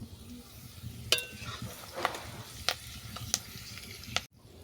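Curry leaves dropped into hot oil with popped black mustard seeds, giving a soft, steady sizzle with a few sharp crackles and spits, close by, before the sound cuts off abruptly.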